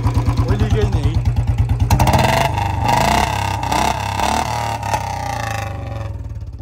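Royal Enfield Bullet motorcycle idling with an unleaking exhaust, a loud, steady, close-up thumping beat that carries on beneath someone talking.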